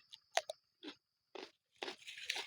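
Fresh cucumber is chewed close up in a cucumber garden, with several crisp, crunchy bites spaced out and then quicker chewing, quiet and alone.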